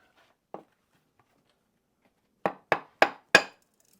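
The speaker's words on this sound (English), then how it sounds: "Give her a little tap." Sharp metallic taps strike a part of a Mercury 150 outboard engine to free it: one isolated knock, then a quick run of four close, evenly spaced blows.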